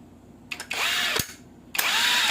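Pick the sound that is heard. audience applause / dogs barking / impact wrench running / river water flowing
impact wrench running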